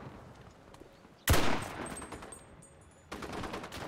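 Gunfire in the Enlisted video game during a Pacific War campaign, a sharp loud burst of shots followed by a decaying rumble, then a second burst of firing a couple of seconds later.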